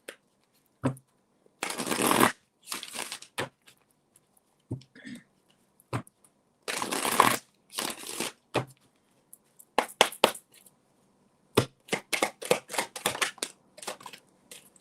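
Tarot cards being shuffled by hand in repeated bursts of riffling and flicking, close and fairly loud, with short pauses between each shuffle and no talking.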